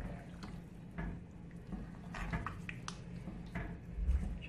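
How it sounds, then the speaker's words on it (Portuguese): Bolognese sauce for lasagna, thinned with a little water, simmers in a pot, giving soft bubbling pops and wet squishy blips over a low, steady background. "Coloco um pouco de água e deixo ele cozinhando aqui."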